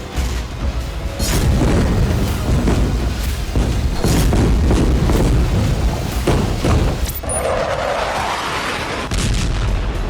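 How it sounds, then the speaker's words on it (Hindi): Israeli Air Force bombing strikes the Indonesian hospital in Gaza, producing a rapid series of loud, heavy booms and thuds over a continuous deep rumble, with a brief lull near the end. "ये वीडियो इंडोनेशियाई अस्पताल का है, जहां आज फिर इजराइल एयरफोर्स ने बमबारी की।"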